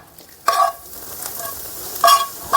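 Ingredients sizzle and are stirred in hot ghee in a pan, with short bursts of frying and scraping against a low steady crackle, close up and alone.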